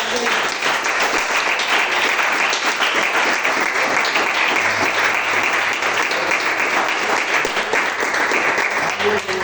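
A church congregation at a campaign worship service claps together in praise, producing sustained, loud, dense applause throughout with faint voices underneath.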